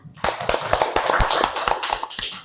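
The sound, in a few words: classroom clapping hands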